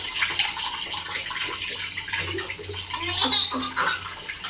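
Water pours and splashes down onto a person in a bathroom at night, a close, uneven rush with bursts of spattering, while a child's and an adult's voices are faintly heard underneath.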